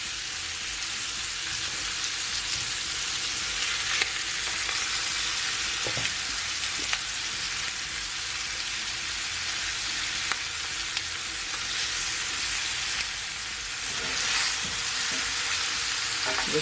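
Jamaican curry chicken wings and corn sizzle and fry steadily in a pan while being stirred, a continuous close crackle with occasional scraping clicks and no talk.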